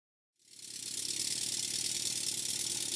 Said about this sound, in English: with this increase in oil in the steam line, the engine is starting to labour a little bit